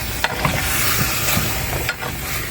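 Tomatoes stir-frying in a pan as they cook down into a paste, a steady close sizzle with a couple of brief scraping stirs, no voices.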